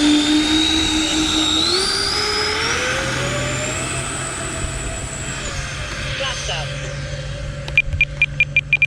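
A jet aircraft's engines spool up for takeoff in a loud, rising turbine whine that climbs steadily in pitch and then levels off, followed near the end by a run of rapid, evenly spaced electronic beeps.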